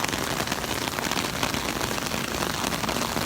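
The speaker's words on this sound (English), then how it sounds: "It started raining probably about an hour or two ago." Steady rain falling on an open beach at Miramar Beach, Florida, a continuous broadband hiss with dense spattering drops, fairly loud and even throughout with no voices.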